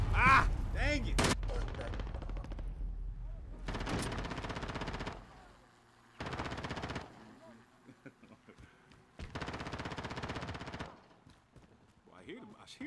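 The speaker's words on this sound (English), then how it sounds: "Hear the shots?" Bursts of rapid automatic gunfire from Call of Duty: Modern Warfare come in several separate volleys of a second or so each, loud against quieter gaps, with a voice talking briefly near the start.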